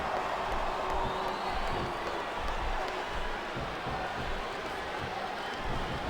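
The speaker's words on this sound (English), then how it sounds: "This capacity crowd is making their opinions known tonight." Arena crowd from the wrestling video game WWE SmackDown vs. Raw 2007, a steady, dense roar of cheering and murmuring that continues without a break at a constant loud level.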